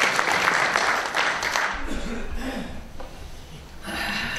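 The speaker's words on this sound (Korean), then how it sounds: "이석현 의원을 여러분 뜨거운 박수로 맞이해주시길 바라겠습니다" An audience at a book launch event claps for a lawmaker being welcomed, a continuous wash of applause that thins out partway, with some breathing and rustling nearby.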